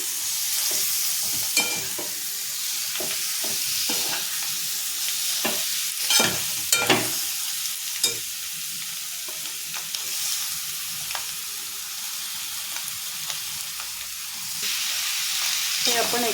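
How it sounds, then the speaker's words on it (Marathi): Homemade Agri-style vajadi masala with spices fries in a pan, stirred continuously with steady sizzling and intermittent scraping and clinking of the spoon, close up, with no talk. "हे आपण एकत्र एकजीव करून घेऊया सगळे मसाले टाकून"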